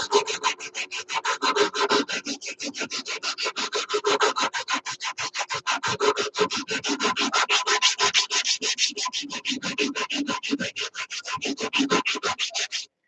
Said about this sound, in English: Now I'm going to round this edge here by just going around and around like this